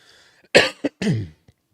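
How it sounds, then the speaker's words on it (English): A single sharp cough, followed by a couple of short throaty hacks, close and loud against near silence. "I didn't mean to cough into the mic like that"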